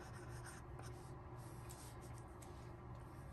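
A broad yellow steel nib fountain pen scratches across paper in a steady, close, quiet rasp, strokes running together with brief lifts between them, no voices.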